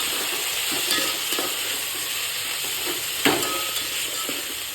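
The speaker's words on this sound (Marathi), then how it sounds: "हळद मसाला टाकून घेऊ थोडासा हे वाटण परतून घेऊया थोडंसं" A ground spice paste with turmeric and masala sizzles in a pan, a steady loud hiss with occasional spoon scrapes and one sharper clack as it is stirred, no talking.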